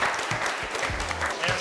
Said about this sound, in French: je pense qu'on peut s'applaudir, c'est une fin de tournage